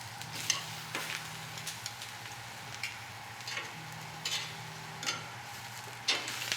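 Onions, zucchini and squash sizzle on a grill in a soft, steady crackle, with scattered louder pops and faint ticks but no talking.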